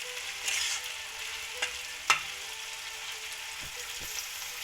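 Onions frying in a pan with cinnamon, cloves and cumin for an Indian potato curry, a steady soft sizzle with a few sharp clicks of stirring, close and alone.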